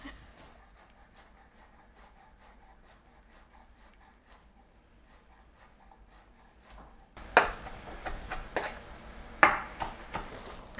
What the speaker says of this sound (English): I'm just going to chop up my cilantro for garnish.